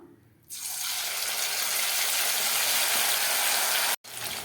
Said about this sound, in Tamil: இப்போது இந்த பெரட்டி வச்சுருந்த இந்த சிக்கனை ஒவ்வொன்றா கொஞ்சமாக போட்டு பொரிச்சு எடுத்துக்கலாம்.